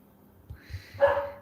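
A dog, barking at someone at the door, gives a short bark or two, fairly close, rising out of a low background murmur and ending in a sustained yelp.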